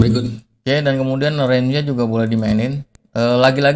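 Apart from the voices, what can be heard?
None of the usual background noises is heard.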